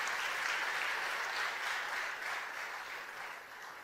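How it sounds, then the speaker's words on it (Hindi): A steady wash of audience applause at a public event with the chief minister of Madhya Pradesh, fairly faint and even for nearly four seconds and easing slightly at the close, with no voices. "तालियों से स्वागत करेंगे जागृति जी"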